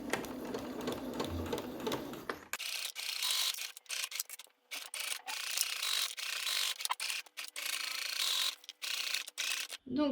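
A sewing machine stitches the seam of a waterproof fabric pouch in a series of rapid mechanical runs with short pauses between them, close and fairly quiet, with a little soft rustling before the first run.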